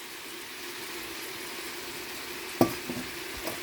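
Vegetables saute in garlic-infused oil in a soup pot, giving a steady, close sizzle with a sharp clatter of stirring partway through.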